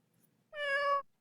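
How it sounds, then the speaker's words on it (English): A single clear cat meow, rising and sustained for about half a second, heard close and alone against near silence. "and a cat meowing"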